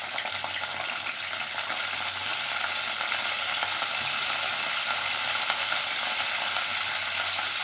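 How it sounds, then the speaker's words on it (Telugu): Green chillies frying in hot oil inside a pressure cooker for bottle gourd chutney, a steady close bright sizzle that continues evenly throughout with no talking. "ఆయిల్ హీట్ అవుతున్నప్పుడు మనం ముందుగానే శుభ్రంగా కట్ చేసి పెట్టుకున్న ఈ పచ్చిమిర్చి అనేది వేసుకోవాలి"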